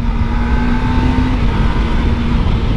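A Kawasaki ZX25R motorcycle, fitted with an aftermarket exhaust, runs close by during a test ride, its engine a loud, steady drone holding constant revs with road and wind noise beneath, no speech.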